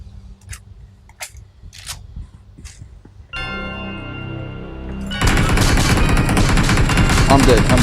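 AK rifle fire in the PUBG game: a few sharp isolated shots at first, then a steady droning layer, then sustained rapid automatic fire that fills the end loudly.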